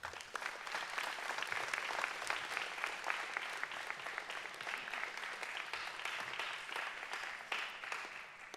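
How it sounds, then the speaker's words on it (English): An audience at a high school senior awards evening gives sustained applause for parents, family and friends, a dense, even wash of many hands clapping that holds steady for several seconds with no talking. "give them a round of applause and thank them for all that they do"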